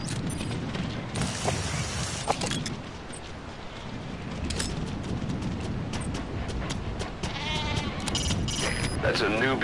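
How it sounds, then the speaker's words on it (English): A Nubian goat bleats in Metal Gear Solid V, its wavering calls heard against a busy, rumbling game soundscape with talking throughout. "That's a Nubian goat."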